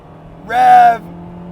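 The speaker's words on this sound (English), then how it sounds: "It just keeps revving." A single short, loud rev of a high-revving Honda Type R engine, a quick buzzy blip that rises and drops off within half a second over a low idle hum.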